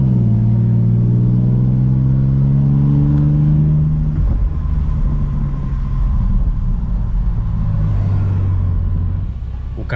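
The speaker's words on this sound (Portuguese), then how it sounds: "Galera, tô aqui agora testando o carro. E, mano, tá muito rápido." A tuned car with a reprogrammed engine chip accelerates hard on a test drive, its loud engine note climbing steeply through the gears and then settling into a sustained strong drone, with a driver's voice faintly present.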